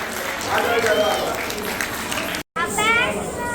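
Loud audience applause at a kathak dance centre celebration, dense clapping with crowd chatter mixed in, briefly cut by a short gap before resuming at full strength.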